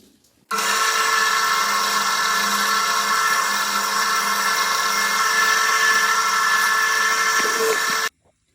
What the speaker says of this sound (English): I'm gonna drill a couple holes here just for extra strength